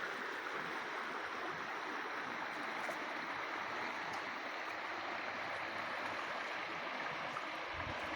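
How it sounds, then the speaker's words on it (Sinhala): Water rushes steadily along a rock-lined irrigation canal between paddy fields, a constant broad near roar with no talk. "මේ පැත්තෙන් තමයි මේ ඇල එන්නේ ගසාගෙන"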